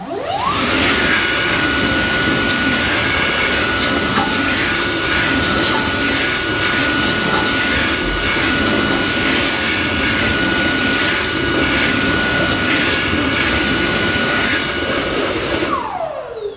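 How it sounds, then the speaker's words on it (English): A Dyson Airblade hand dryer runs at full power with a loud, steady, high-pitched whooshing roar, a sustained whine held throughout before it spins down at the end. "today we have a Dyson Airblade hand dryer."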